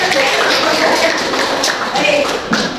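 A class of pupils claps for a classmate's answer in a civics lesson, a busy, close burst of many hands tapping continuously, with a few voices mixed in.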